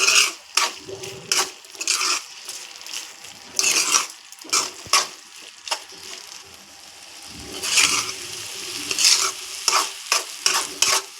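A spoon stirs beans gravy curry in a pan, making repeated scraping and clacking strokes in uneven bursts over a soft sizzle of frying oil, close up and with no talking.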